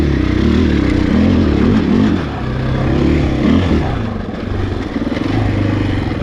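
A 2020 Husqvarna FE501S dual-sport motorcycle ridden hard over a dirt motocross-style track, its engine droning loud and steady with rising and falling revs and some clatter, close up and continuous throughout.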